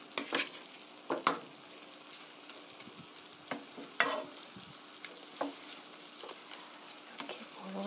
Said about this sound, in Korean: 이렇게 고루 섞어주시고요.